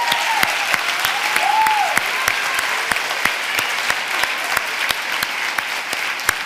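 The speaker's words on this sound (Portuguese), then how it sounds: "Vamos dar uma salva de palmas ao nosso Deus" A church congregation applauds steadily at a worship service, with dense sustained clapping and some sharper individual claps, while a voice briefly carries over the crowd.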